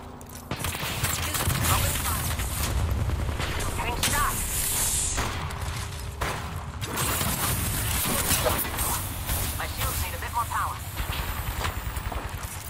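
Gunfire and combat in the video game Apex Legends, a dense, continuous clatter of shots and impacts with booms, while players talk excitedly over it.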